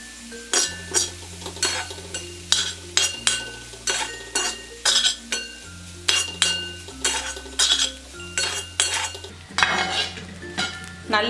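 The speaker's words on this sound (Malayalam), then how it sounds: "ഇനി ഇതിലേക്ക് നമുക്ക് വേവിച്ച് വെച്ചിരിക്കുന്ന റൈസ് ചേർത്ത് ഇളക്കി കൊടുക്കാം." A metal spoon stirs cooked rice into vegetables and egg in a pan for egg fried rice, making rhythmic clinks and scraping against the pan with a faint sizzle and no talking.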